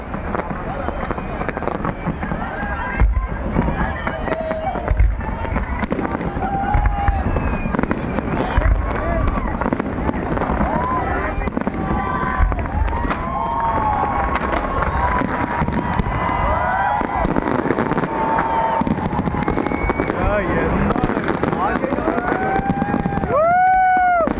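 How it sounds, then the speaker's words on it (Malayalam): Fireworks display in Dubai, with dense crackling bursts and booms continuing steadily throughout amid crowd noise, whistling rising shells, and wind buffeting the microphone. "വെടിമരുന്നിൻ്റെ പൂരമാണ് നടക്കുന്നത് ദുബായ്"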